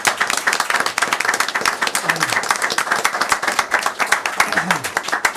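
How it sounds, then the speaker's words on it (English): An audience at a city council meeting in Hamtramck claps for an honoured community member, a steady, fairly loud patter of many hands with a few voices calling out underneath. "please, let's give him a round of applause"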